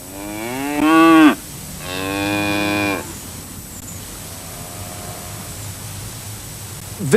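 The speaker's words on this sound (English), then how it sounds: "Here is a cow." A cow moos twice in long, drawn-out calls close by, each lasting over a second, followed by quiet outdoor ambience with faint hiss.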